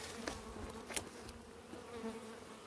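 Italian honey bees at a hive full of honey in March buzz close by, a lively drone with passing bees and a few sharper handling noises.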